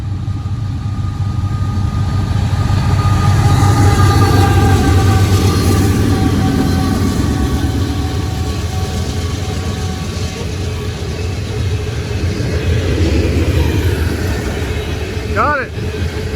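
A big coal train with loud DPU locomotives rumbles steadily close by, a heavy low engine drone with tonal hum layered over it, continuous and loud throughout, ending in a brief high squeal near the end.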